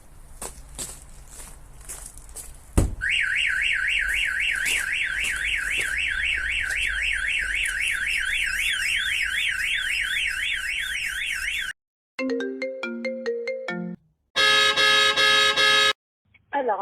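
A sharp knock triggers the shock sensor of a StarLine B96 car alarm, its loud warbling siren cycling rapidly, then chirps and beeping tones with brief gaps of silence.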